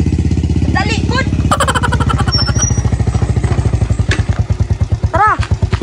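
A motorcycle engine idles and revs with a steady pulsing throb close by, while people talk loudly over it the whole time.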